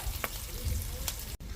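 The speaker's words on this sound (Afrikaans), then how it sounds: "Braai eers ons uiwe." Onions fry in a large cast-iron potjie pot, giving a steady close sizzle and crackle with a couple of sharper spits throughout.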